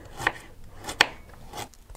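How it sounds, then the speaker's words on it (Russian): A knife dices vegetables into cubes on a cutting board in a few separate, crisp strokes spaced apart, close up and fairly quiet, with no talking. "Все остальные овощи тоже нарезаю кубиками"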